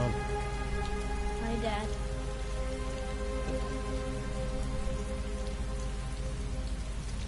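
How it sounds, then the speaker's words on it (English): Heavy rain pours in a constant, loud roar of drops drumming on surfaces. A steady tonal hum runs beneath it, and someone speaks briefly early on. "Heavy rain. It's been the same for weeks."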